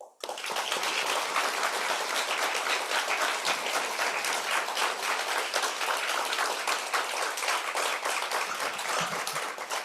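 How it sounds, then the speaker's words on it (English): Conference audience breaks into a strong round of applause, dense continuous clapping starting abruptly and holding steady at full volume throughout. "may I ask you a big round of applause to those outstanding leaders"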